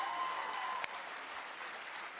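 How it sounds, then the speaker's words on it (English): A crowd claps steadily at moderate distance, a dense continuous patter of applause with one sharper clap standing out. "Can we do applause and I'll just go from the applause and go into it then?"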